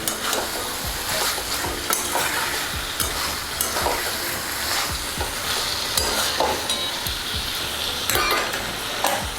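Mutton curry sizzles loudly in oil while a spatula stirs and scrapes the pot in repeated strokes, the frying hiss steady and close throughout.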